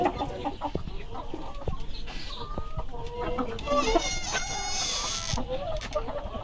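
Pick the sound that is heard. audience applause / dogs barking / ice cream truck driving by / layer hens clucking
layer hens clucking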